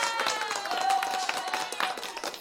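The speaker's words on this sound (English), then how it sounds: "another round of applause" Audience applause at a live trivia game show, a dense steady patter of clapping with some crowd noise, while a voice talks faintly over it.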